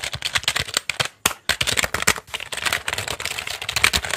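Rapid, irregular clicking of keys on a computer keyboard, a dense run of close, crisp taps with brief pauses, no voices.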